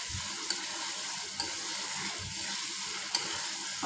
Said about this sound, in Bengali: মশলার সাথে আলুটা খুব ভালোভাবে মাখিয়ে দিচ্ছি।